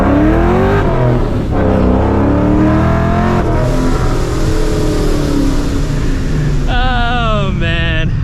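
Supercharged 2004 Ford Mustang GT accelerating hard with wheelspin, a loud continuous engine roar climbing in pitch, briefly dropping as it shifts, then a higher whining rise near the end.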